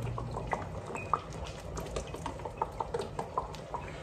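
Balsamic vinegar poured into a cooking pot, a soft liquid trickle with scattered drips and light splashes, fairly quiet and close, no voices.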